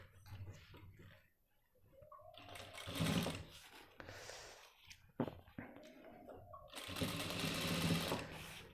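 An electric sewing machine stitches a belt with buckram onto men's trousers, running in short whirring bursts and longer rattling runs, with a person talking between and over the stitching.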